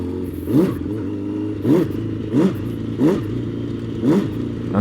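Motorcycle engine idling steadily, with six short, regularly spaced throttle blips that each briefly rise in pitch and fall back, close and moderately loud, no talk.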